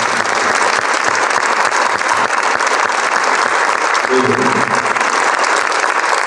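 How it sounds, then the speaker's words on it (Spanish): Loud, sustained applause from an audience at a literary autumn talk with an author, a close, thick wash of clapping throughout, with a voice briefly audible beneath it. "le damos un fuerte aplauso a Víctor del Árbol"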